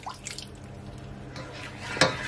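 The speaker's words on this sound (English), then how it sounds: "I'm gonna add just a little bit more of my water." Water is poured into a pan of chicken chow mein, a short run of faint drips and splashes that ends in one sharper splash near the end.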